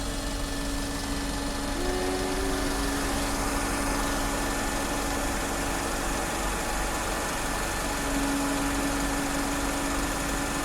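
Red and dark maroon streetlight bus 47429 idles just after start-up, a steady low engine rumble with a constant hum and faint higher whines drifting in, close and unbroken, no talking.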